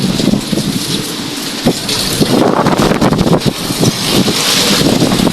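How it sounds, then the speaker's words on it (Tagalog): A strong typhoon in Bicol drives heavy rain and howling wind gusts in a loud, continuous roar, with wind buffeting the microphone and scattered knocks and rattles throughout. "Sa lakas po ng ulan at saka hangin, ito po yung nangyari."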